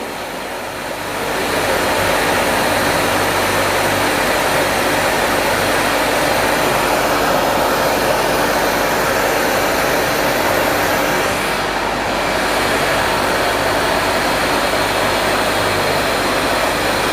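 A Francis turbine runs in a laboratory performance test at close to 1000 RPM, giving a steady, loud, broadband mechanical roar with a constant hum that holds unchanged for the whole stretch.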